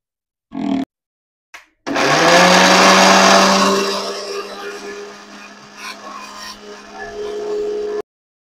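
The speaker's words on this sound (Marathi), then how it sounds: "आणि आता हे आपण मिक्सरला फिरून घेऊया" A kitchen mixer grinder blends dhokla batter, starting after two short bursts, then a loud, steady motor whir with a strong hum that eases slightly and runs on close up before cutting off.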